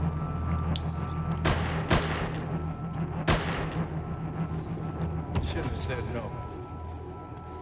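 Gunfire in the Mafia III video game: several sharp, loud gunshots ring out in short bursts over a steady background rumble, with scattered further shots toward the end.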